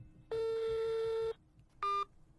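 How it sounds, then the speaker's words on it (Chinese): A mobile phone being dialed for an audio drama gives two clear electronic tones: a long steady beep of about a second, then a short beep after a pause, over faint background hum. "陈荣就主动拿起了桌上张超的手机拨了一下"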